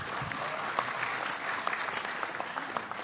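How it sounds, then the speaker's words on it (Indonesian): An audience claps for a regent at an Islamic religious gathering in Indonesia: steady, dense applause from a crowd, moderately close, continuous throughout with a few sharper claps standing out. "Aplaus untuk Pak Bupati."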